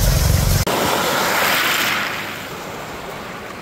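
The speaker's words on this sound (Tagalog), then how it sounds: "Medyo bingi pa yung pandinig natin gawa ng pump boat." A pump boat engine drones loud and close off Casiguran, Aurora, on the Pacific coast of the Philippines, a steady roaring rumble that dips briefly and then settles into a slightly softer, continuous hum.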